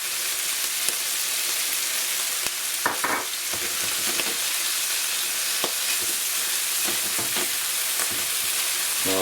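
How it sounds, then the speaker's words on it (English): Onions sautéing with ginger garlic paste in a pan for king prawn masala, a steady close sizzle and hiss broken by occasional scraping stir strokes, continuous and fairly loud with no talk. "Now stir the onion until it's sauteed"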